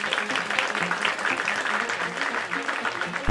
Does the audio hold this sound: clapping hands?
yes